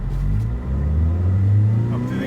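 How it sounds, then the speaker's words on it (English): A 2007 Toyota Tacoma SR5 with a five-speed manual and two-wheel drive pulls away from a stop toward 30 mph, a loud, close, low engine rumble rising steadily with road noise underneath. "Let's do a quick little 0 to 30 to 0."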